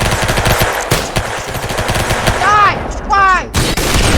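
Video game gunfire: rapid bursts of shots mixed with whizzing effects, loud and close, with some faint voices underneath.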